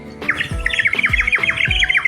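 A water-filled clay toy whistle, a Harappan-style toy, gives a rapid, warbling, sparrow-like chirp that repeats steadily and loudly over soft low puffs of breath.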